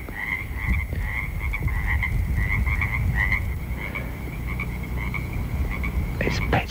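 A chorus of frogs croaks at a pond on a dark, gently rainy night, steady and close with many overlapping calls, swelling briefly near the end.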